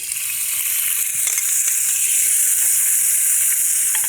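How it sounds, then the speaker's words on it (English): Squid dressed in olive oil sizzles hard in a hot pan, a loud, dense, continuous frying crackle up close that builds slightly and carries on without any talking. "getting it on the heat and waiting for that sizzle."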